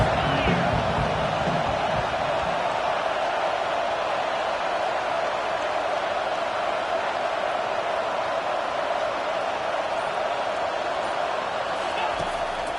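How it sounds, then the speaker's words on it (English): A packed stadium crowd at a football game on third down, roaring loudly and continuously as a dense wall of noise, with a commentator's voice faintly mixed in at the start. "this crowd is tearing the lid off this place"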